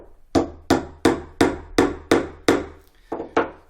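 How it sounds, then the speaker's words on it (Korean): A hammer taps pegs into a wooden toy dog during a children's woodworking lesson: about nine sharp, evenly spaced wooden knocks, close and loud, with no talking. "선생님처럼 망치를 한 번에 세게 때려서 많이 집어넣는 게 아니고 조금씩 여러 번 나눠서 치는 게 요령입니다"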